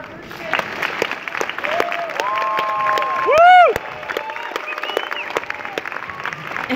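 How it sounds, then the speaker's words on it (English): Audience applause at a first-grade performance, a dense patter of clapping mixed with high, sustained cheering voices that swell briefly to a loud peak. "One more round of applause for our first guest."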